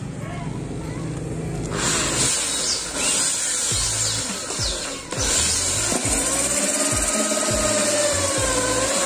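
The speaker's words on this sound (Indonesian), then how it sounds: "Nanti kita langsung kita bor di sini. Tinggal kita bor ini bro ya." A power drill whirs steadily, rising and falling in pitch as it bites into the left side mirror of a Grand Avanza to fit a 360-degree camera, with scraping and knocking around it.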